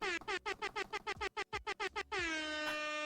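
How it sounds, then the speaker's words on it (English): An air horn sound effect blasts in a rapid run of about a dozen short, loud honks, then holds one long continuous blare to the end. "Oh, Gawk, air horn."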